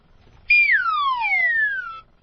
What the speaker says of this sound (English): A wacky whistle.